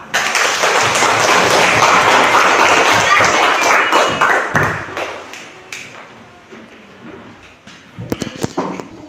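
Loud clapping from a group of children fills the first few seconds, dense and continuous, then fades into scattered claps and faint voices, with a few sharp taps near the end.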